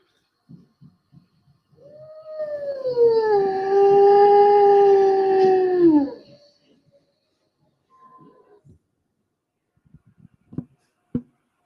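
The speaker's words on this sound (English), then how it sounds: "I want you to listen to the wolf first." A wolf howl rises and holds as one long, loud, tonal call lasting several seconds, with a few faint clicks and soft knocks before and after in an otherwise quiet space.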